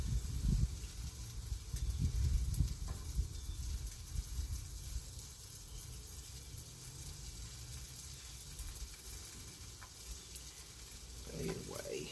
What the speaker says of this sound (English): please excuse the wind.